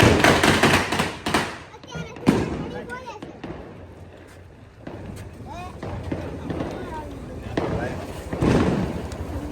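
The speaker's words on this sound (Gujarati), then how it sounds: "ફટાકડા નો અવાજ આવતો" Sharp firecracker bursts go off in clusters during Diwali, loud at the start and again near the end, with people talking between them.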